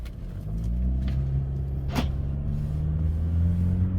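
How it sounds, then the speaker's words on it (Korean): A car engine rises into a rev as the accelerator pedal is pressed, a steady low rumble with a brief sharp click partway through, close and moderately loud, with no talk. "가속 페달을 밟으니까 완전히 깔끔하게 산이 돼버리죠."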